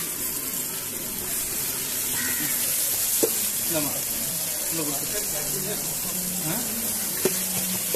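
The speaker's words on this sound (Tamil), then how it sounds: "கருவாடு ஃப்ரை பண்றாங்க" Dried fish (karuvadu) frying in a pan in a village kitchen, a steady close sizzle and crackle throughout, with people talking over it.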